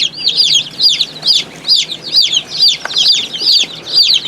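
Silver-laced Wyandotte chickens clucking loudly and close by in a steady, repeating rhythm, their calls coming in quick bursts with no talking.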